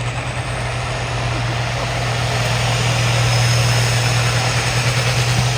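Farm stock tractor idling at a tractor pull in Tripoli, Iowa, a steady low engine rumble with a strong hum, held constant and close throughout with no talk.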